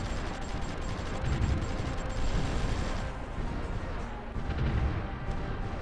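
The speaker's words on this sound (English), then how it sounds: "So we can actually bombard the units." Artillery pounds enemy units in the strategy game Supreme Ruler Ultimate, a dense, continuous rumble of overlapping blasts that swells and eases across the whole stretch.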